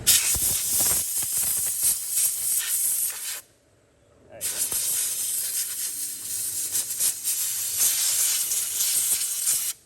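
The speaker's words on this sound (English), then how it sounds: "Compressor on, no gun. Let's just get all the dust out of the back of this guy." Compressed air blasting from an air compressor to clear dust from an ECM connector on a 6.6 Duramax LBZ Sierra Silverado truck, a loud close hiss that cuts off for about a second, then resumes steadily to the end.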